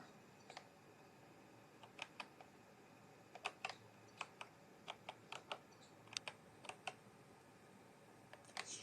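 Typing on a computer keyboard while playing a word game: scattered, crisp key clicks arrive singly and in quick bursts, fairly faint over a quiet background with no talking.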